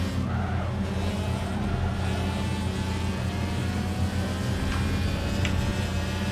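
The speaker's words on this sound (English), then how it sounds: "I do like how obnoxious my car sounds though with the rotary." Rotary-engined race car in Forza 7, a loud continuous buzzing engine drone holding steady throughout with other race cars around it.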